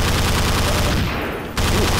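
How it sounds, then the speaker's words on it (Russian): Gunfire in the video game Half-Life 2 Episode 3 crackles as dense, rapid shots in a loud noisy burst, briefly dropping off before resuming abruptly. "Слышим там уже вовсю прям пальба."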